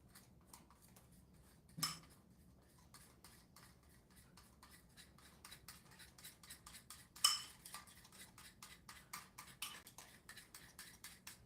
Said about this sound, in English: And then just gently stir that together.